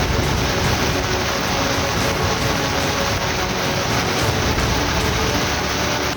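Heavy first monsoon downpour over Haridwar streets, a dense, steady roar of rain hissing evenly throughout with no pauses, loud and close.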